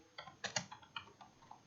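Short bursts of computer keyboard typing, a handful of close, crisp keystrokes in an uneven rhythm with no one speaking.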